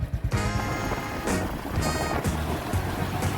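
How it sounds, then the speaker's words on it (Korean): A sudden heavy downpour hits during a motorbike outing in Vietnam, making a dense, steady roar of rain with an engine droning low underneath. "여러분 갑자기 비가 많이 오는데요."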